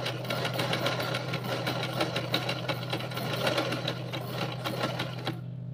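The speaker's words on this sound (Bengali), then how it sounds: "দেখো কিভাবে সেলাইটা হচ্ছে" A sewing machine stitches a pico edge at slow speed, giving a fast, steady mechanical chatter with a constant motor hum that cuts off abruptly at the end.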